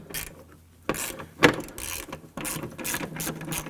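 On a 2015-2020 Ford F-150, a ratchet works a 10mm hood hinge bolt loose, making short bursts of close clicking separated by brief pauses, with no voices.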